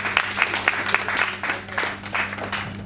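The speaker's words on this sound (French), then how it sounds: "Est-ce qu'on peut acclamer pour ça?" Congregation applauding during a thanksgiving church service, a steady crowd of many hands clapping with irregular sharp peaks, fairly close and continuous with no talking over it.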